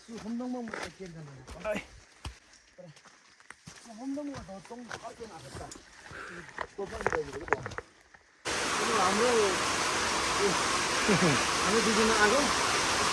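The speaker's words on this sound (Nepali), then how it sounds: "यस्तो छ, पानी परिरहेछ।" A voice talks over quiet background, then heavy rain in the hills of northern Dhading, Nepal, abruptly takes over as a loud, dense roar, with the voice continuing faintly beneath it.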